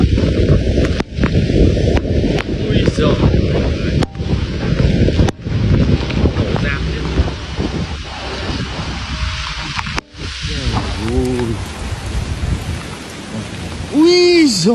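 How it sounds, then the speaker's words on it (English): Heavy rain and wind roar steadily through Typhoon Yagi, cut by several sharp cracks of thunder, with faint warbling voices near the end. "Destructive power of Typhoon Yagi."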